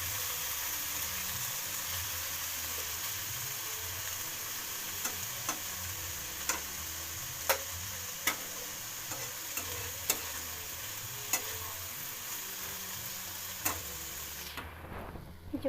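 Neem leaves and eggplant in hot oil give a continuous sizzling hiss, with periodic sharp clicks from stirring, close and steady until it cuts off near the end, no voices.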